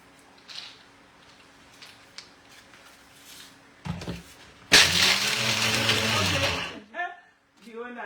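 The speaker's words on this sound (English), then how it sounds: "grind your groundnuts just a bit" A kitchen blender grinds groundnuts in a loud, steady whir lasting about two seconds, after quieter background clatter and low voices, then cuts off into a brief pause.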